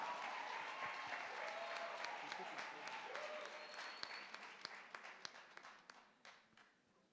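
A university graduation audience in Keetmanshoop, Namibia claps for newly conferred doctorate and master's graduates, a full, sustained applause that gradually thins to scattered individual claps near the end.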